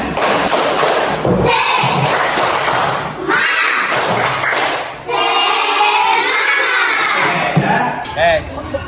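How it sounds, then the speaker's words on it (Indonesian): A group of children clap a loud, rhythmic 'tepuk semangat' spirit pattern in a school class, with bursts of patterned claps mixed with children's voices and shouting. "Coba sekali lagi tepuk semangat."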